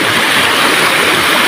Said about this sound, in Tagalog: So ganito yung Kaigangan Falls niya.